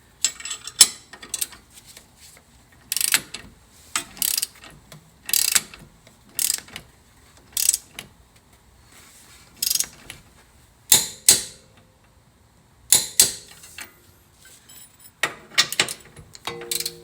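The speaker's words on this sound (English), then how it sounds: "Gotta get my wrench on the other side." A ratchet wrench tightens suspension bolts on a 2001–2005 Lexus IS300 during a coilover install, its sharp clicking arriving in short repeated bursts with pauses between, close and crisp, with no voices.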